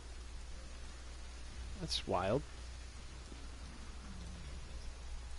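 Steady rain hisses softly and evenly across the scene in Mordor, in the video game Shadow of Mordor, with a low background hum and a brief spoken remark partway through.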